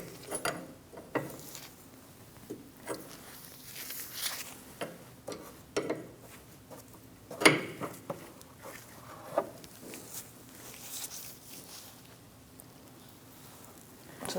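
Quiet, sparse clicks and metallic ticks as a wrench slowly turns an outer tie rod off a 2000-2006 Mini Cooper, irregular taps and ratcheting contacts with soft background hiss.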